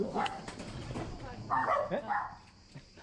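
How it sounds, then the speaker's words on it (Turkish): Small dogs on a hilly street on Lesvos bark and yip excitedly in a few short bursts at moderate distance, with a voice speaking over the sounds. "minik köpekler bizi görünce bir heyecanlandılar, havladılar"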